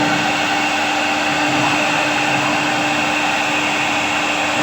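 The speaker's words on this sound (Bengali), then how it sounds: "এটা মেশিনে নকশা করতেছে অনেক সুন্দরভাবে" A wood carving machine cuts floral designs into wood, giving a steady, loud whirring drone with a constant high whine and no breaks, running on its own without talk.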